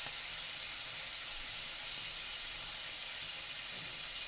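Bacon lardons, chicken livers and mushrooms fry in a hot pan, giving a steady, dense sizzle and hiss. The sound stays even and close throughout, with faint crackles and no talking.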